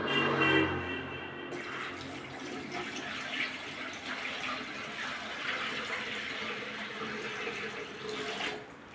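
Water pours and splashes steadily as it is drained off rice soaked for a day and a half, a continuous running sound at moderate level with no talk.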